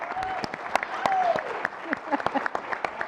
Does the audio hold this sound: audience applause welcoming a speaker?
yes